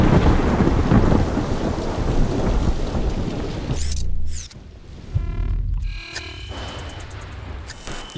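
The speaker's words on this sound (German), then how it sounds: "das Gewitter ist immer noch sehr laut." Heavy rain and rolling thunder in the video game Observer: System Redux, a loud dense downpour with rumbling that drops off abruptly midway, followed by quieter mechanical hums and electronic tones.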